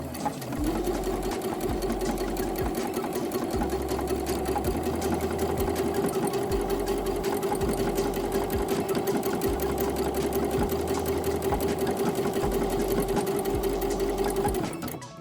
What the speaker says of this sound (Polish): opuszczam stopkę i próbujemy szyć